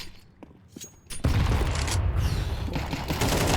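Counter-Strike match audio: after a quiet lead-in with faint clicks, a grenade blast hits loudly and rolls into a dense run of pistol and gunfire shots that continue steadily to the end.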